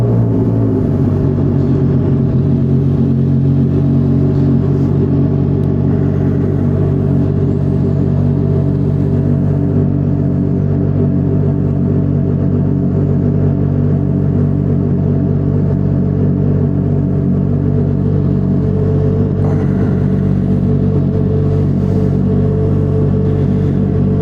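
A CFMOTO 675SR motorcycle fitted with a KO Lightning full exhaust idles steadily and close up, a deep, even rumble that holds without revving and with no voices over it.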